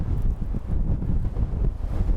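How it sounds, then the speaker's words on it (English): Strong wind on a city street in Sendai, Japan, buffeting the microphone in loud, rumbling gusts that swell and ease continuously for a couple of seconds, with no voices. "Oh, it's really windy today."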